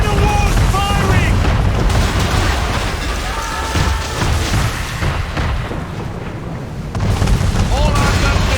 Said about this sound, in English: We're under attack! Man of war's firing!